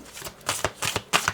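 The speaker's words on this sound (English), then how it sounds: "I want to have one mystical shaman" A few quick riffling shuffles of a shaman oracle card deck sound close and crisp, four short papery bursts in quick succession as a card is drawn.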